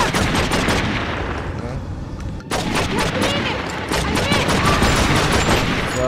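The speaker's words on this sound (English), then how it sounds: "keep shooting at it." Sustained gunfire in the video game True Crime: New York City, with rapid machine-gun bursts and heavy shots layered loudly and continuously, with a short dip midway and voices faintly underneath.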